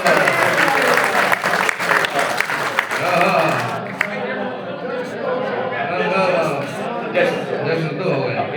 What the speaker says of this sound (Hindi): तालियां बजाइए, हो गया जश्न।